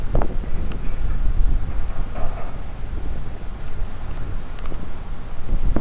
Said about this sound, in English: I hope the wind isn't too loud and you can still hear me